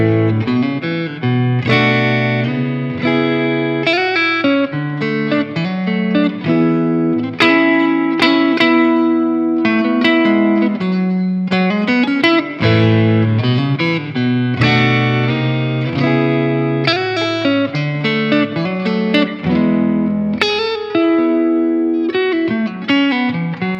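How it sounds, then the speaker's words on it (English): A clean electric guitar through a 5E3 tweed-style tube amp with an EQ pedal shaping black-panel-style tones plays a continuous melodic passage with chords and single notes, warm and full-bodied, steady loudness throughout, no talking. "he's adding the Barb EQ to shift the amp to black panel style tones"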